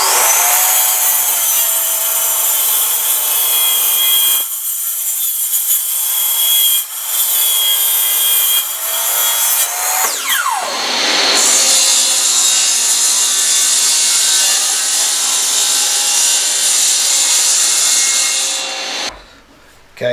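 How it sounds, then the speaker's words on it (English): A miter saw cuts bamboo for a flooring mallet, a loud high whine spinning up, biting through the stalk with a harsh rasp, then winding down, repeated across two cuts at close range. "so that I can bump it up against the fence on my miter saw and then cut it"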